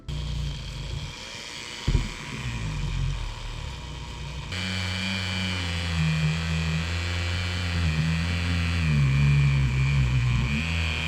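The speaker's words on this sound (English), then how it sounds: "instead of using the cloth, I got the Dremel" A Dremel rotary tool polishing a handmade Minecraft Totem of Undying, a steady high motor whine that rises in pitch after a few seconds and holds loud and close, wavering slightly as it presses on the piece.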